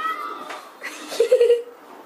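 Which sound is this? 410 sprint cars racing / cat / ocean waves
cat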